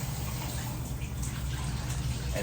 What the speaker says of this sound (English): There we have that kind of stream, or, oh yeah, that's gonna be a lot of water.